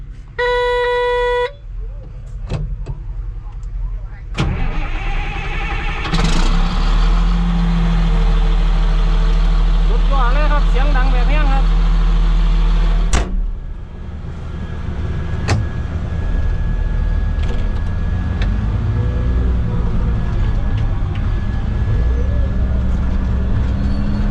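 A Fuso FN527S dump truck's diesel engine cranks and starts up, then settles into a loud rumbling idle, close by, with a horn-like tone at the start.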